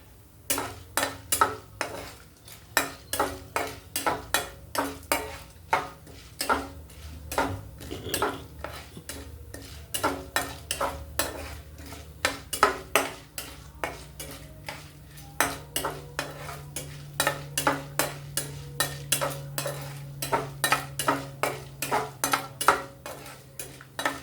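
Okra and potato being stir-fried in a pan, a regular series of sharp spatula scrapes and clanks against the metal over a low sizzle, continuing steadily with no talk.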